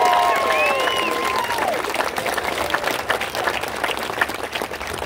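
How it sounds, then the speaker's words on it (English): Sustained audience applause at the Buffalo Soldiers Monument unveiling at West Point, a steady outdoor wash of clapping with a voice briefly audible at the start. "how about a round of applause for her?"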